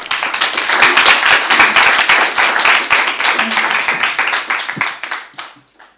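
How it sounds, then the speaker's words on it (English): A crowd applauds steadily with dense overlapping claps, then the clapping thins out and fades to a few scattered claps at the end. "shall we give them a round of applause?"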